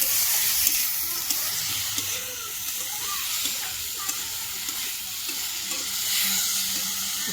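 Small anguli fish coated in salt, turmeric, chilli and ginger paste are stirred in a frying pan, a soft continuous sizzle and hiss with light scraping, moderately quiet and without talk.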